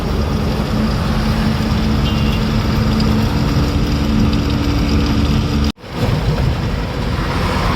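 A diesel truck engine drones steadily while driving on a road near Nellore, a loud continuous low rumble with road noise that cuts out for a split second before resuming.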